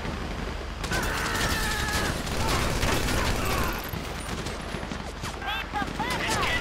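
A GTA V shootout during a robbery mission: dense overlapping gunfire, rapid bursts and single cracks layered over each other throughout, loud and close, with shouting voices mixed in.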